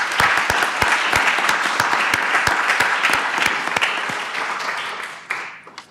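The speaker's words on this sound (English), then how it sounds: "I just want to actually give everyone a round of applause first who's involved in this" Conference audience gives a sustained round of applause, dense crisp clapping with a few sharp nearby claps, holding steady before tapering off near the end.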